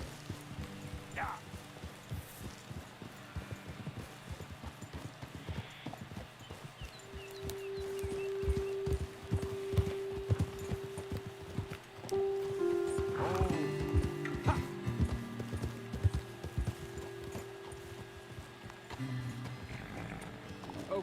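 Horses' hooves clip-clopping in the video game Red Dead Redemption 2, a steady close walking rhythm over soft ambient background, with occasional voices talking and tonal game sounds layered in.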